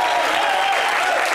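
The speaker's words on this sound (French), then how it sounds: "Applaudissez un peu pour le président là-bas." A studio audience on an entertainment talk show breaks into steady, dense applause, a brief continuous burst of clapping.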